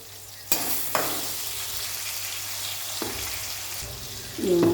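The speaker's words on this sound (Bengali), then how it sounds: "আলুটা দেখুন ভালো ভাজা হয়ে গেছে।" Potatoes sizzle in hot oil in a pan while a spoon stirs and knocks against the metal in a few sharp clinks, the frying close and steady, swelling louder at the end.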